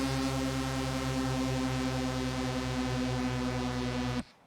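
A sustained synth tone through a bandpass filter drones for about four seconds with a buzzy, horn-like harmonic character and slow pulsing wobble, loud and steady, then cuts off abruptly.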